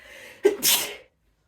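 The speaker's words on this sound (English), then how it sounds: "I'm gonna sneeze." A single close, loud sneeze, a sharp intake of breath followed by a bursting exhale, then silence.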